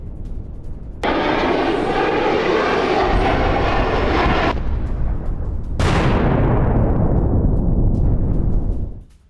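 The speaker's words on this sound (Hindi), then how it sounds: "यूक्रेनी MiG-29 विमान ने की है बम वर्षा।" A Ukrainian MiG-29 jet roars loudly during an air strike, a sustained engine blast that cuts off abruptly, then a second loud surge that sweeps downward and fades.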